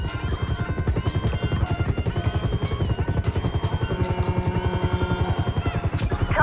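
Police helicopter in GTA 5 with a steady, loud rotor chop that beats continuously throughout, layered with other game sounds and music-like tones, no talking.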